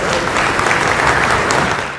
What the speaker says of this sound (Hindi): तालियों की ऐसी बौछार कर दो